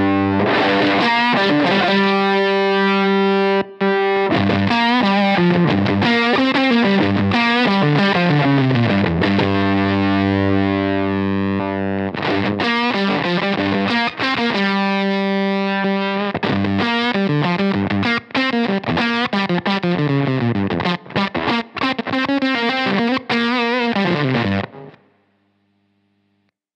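Electric guitar through a JHS 3 Series fuzz pedal with the fat switch engaged, a loud, thick, woolly distorted tone played in sustained chords and riffs for about 25 seconds, then cut off; a brief murmur of voice.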